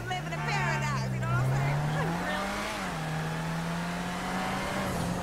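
Grotti Brioso RA small car in GTA Online, its engine holding a steady buzzing drone with a faint rise in pitch and brief shifts, sounding close and continuous under a voice.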